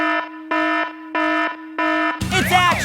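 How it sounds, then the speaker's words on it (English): A cartoon emergency alarm blares in four loud, steady electronic tones with short gaps between them, then breaks off into a jumble of brighter, warbling sound near the end. "Emergency alarm."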